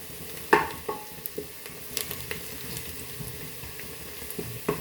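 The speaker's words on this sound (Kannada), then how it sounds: "ಈರುಳ್ಳಿನ ಚೆನ್ನಾಗಿ ಫ್ರೈ ಮಾಡ್ಕೋಬೇಕು. ಇದು ಇನ್ನೂ ಫ್ರೈ ಆಗಬೇಕು." Onions frying in a pan for kuska rice, a soft bubbling sizzle punctuated by occasional knocks and scrapes of a spoon stirring, fairly close and quiet, with no speech.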